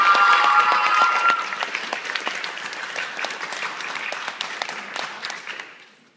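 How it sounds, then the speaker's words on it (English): Applause for the Walters Junior High School Band at a school concert, a steady burst of many hands clapping that slowly thins and fades out over several seconds. "please give them a huge round of applause"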